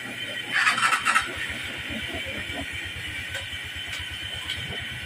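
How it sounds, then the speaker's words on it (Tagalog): Running Honda TMX 125 motorcycle with a noisy rear hub: a steady rapid knocking rhythm under a hissing, squealing mechanical whine, heard close up with a brief louder scrape near the start. "Napakaingay po ng trasera niya."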